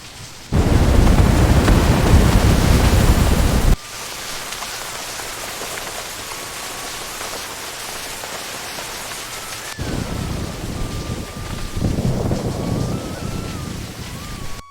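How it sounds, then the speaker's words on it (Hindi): Heavy rain pours down steadily with rolling thunder, a dramatic storm effect for a cartoon story. A loud, dense downpour at the start eases into a softer, sustained hiss, then swells again toward the end. "कुछ दिनों बाद भयंकर बारिश आई।"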